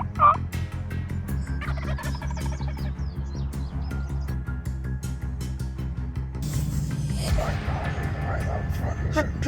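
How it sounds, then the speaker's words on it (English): Several wild turkey gobblers gobble outdoors at a distance, their rattling calls repeating over steady background noise with occasional bird chirps. "There's definitely multiple gobblers out there."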